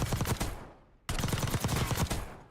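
Rapid bursts of gunfire ring out at a firing range in Warzone, two close, loud volleys of quick repeated shots separated by a brief pause, with no talking.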